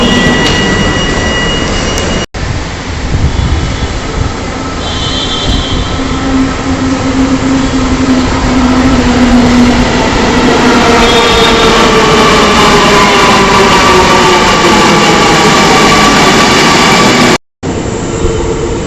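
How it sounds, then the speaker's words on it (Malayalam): A metro train at a Kochi Metro station rumbles and roars loudly and steadily throughout, with a brief break partway through and another near the end, and no voices. "നമ്മൾ മെട്രോ സ്റ്റേഷനകത്താണേ ട്രെയിൻ നോക്കിയിരിക്കുക."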